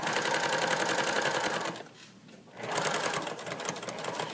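A sewing machine stitches along a fabric seam with a rapid, even needle chatter up close, briefly slowing to a near pause midway before running at full speed again.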